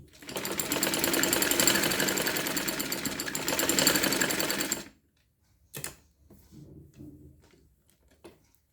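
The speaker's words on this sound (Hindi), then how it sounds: "यहाँ पे हमें सिलाई लगा देनी है।" A sewing machine stitches the elastic waist of a dress in a fast, continuous mechanical rattle for about five seconds, then stops, followed by a few soft clicks and handling sounds.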